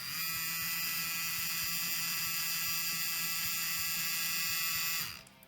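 Wireless tattoo machine motor running on a battery pack at 7.5 volts gives a loud, steady, rough buzz with a faint rattle. It holds at constant level for about five seconds, then cuts off.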